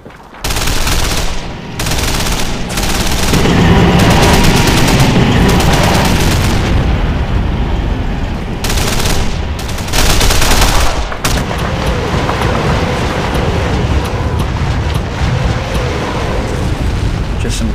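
Katyusha rocket barrage and gunfire in the Men of War: Barbarossa war game, a loud, continuous roar of explosions and rattling fire with sharp bursts, dense and unbroken for the whole stretch.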